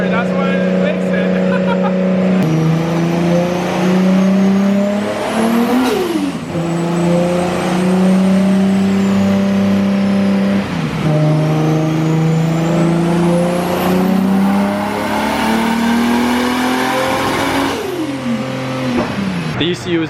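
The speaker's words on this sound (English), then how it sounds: "he got it so it can rev out now." Built RB25 engine in a Nissan Skyline, revving hard again and again, loud and close, with the pitch climbing high before dropping back between pulls.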